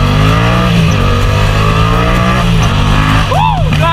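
A Yamaha XSR700 motorcycle engine runs loud and close in heavy traffic, holding a steady low rumble with a rising rev near the end.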